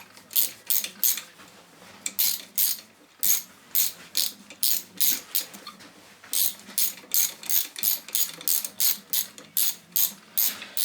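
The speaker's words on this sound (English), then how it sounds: "my ratchet's working the wrong way around" A hand ratchet is tightening bolts on a Lucas 16 ACR alternator from a classic Mini. It gives repeated rapid clicking bursts in an uneven rhythm with brief pauses between strokes, close and fairly quiet, with no talk.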